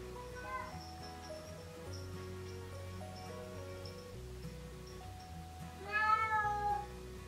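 A house cat meows indoors, a few short cries followed by a louder, rising meow near the end, over background music.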